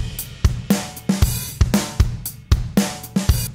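A punchy, aggressive drum kit groove with hard kick and snare hits and crashing cymbals, played in a steady driving rhythm, loud and close.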